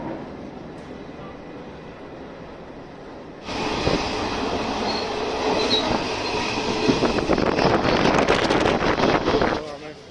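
A metro train in Chennai runs loudly nearby, a rumble that suddenly swells and carries rapid rail clatter and squeal before easing off at the end.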